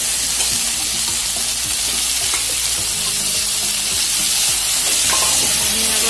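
Chopped morapat greens hitting potatoes already frying in hot oil, the sizzle loud and steady with repeated scraping stirs and clinks throughout, no one talking.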